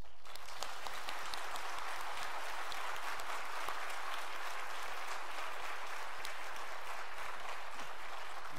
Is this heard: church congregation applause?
yes